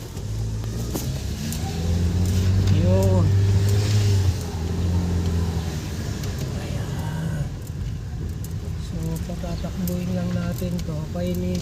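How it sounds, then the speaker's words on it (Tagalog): A Ford EcoSport engine idles and runs steadily while warming up, a continuous low hum close by with a brief rise in revs near the start, and someone talking over it. "So, painitin natin yung makina."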